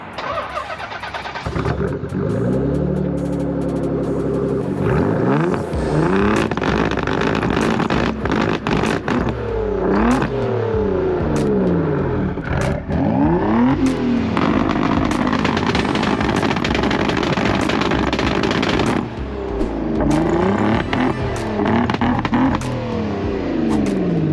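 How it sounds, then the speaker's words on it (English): A 650 whp Nissan 300ZX sports car roars through repeated hard revs and full-throttle acceleration runs, engine pitch sweeping up and dropping between gear changes, loud and close from inside the cabin. "Yeah, let's take it for a drive."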